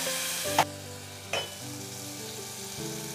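Tomato and cooked dal sautéing in a pan for a ridge gourd curry, a steady close sizzle with two brief scraping stirs over about three seconds.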